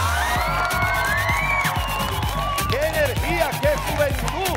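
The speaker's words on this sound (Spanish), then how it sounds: "¡Un aplauso para este maravilloso y espléndido público!" A large studio audience at a Bolivian TV game show claps and cheers with whoops, loud and steady throughout, with background music or voices mixed in.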